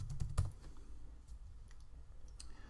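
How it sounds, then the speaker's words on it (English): Typing on a computer keyboard, a quick cluster of close clicks at first, then sparse, faint taps in a quiet room. "Click this and you can simply start typing section description."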